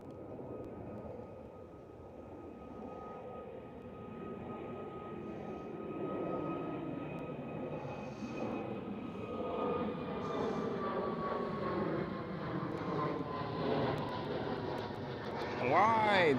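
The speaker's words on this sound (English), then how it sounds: "Oh, go around. Go around. KLM City Hopper E195 E2." A KLM Cityhopper Embraer E195-E2 jet going around at Amsterdam Schiphol roars in a broad, slowly swelling rumble with a thin whine that falls in pitch, moderately distant. Voices murmur faintly beneath.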